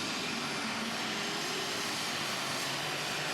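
A light weight super stock pulling tractor at a 2015 pull in Franklin, Kentucky roars at full throttle, one dense, unbroken engine blast that stays loud and near throughout.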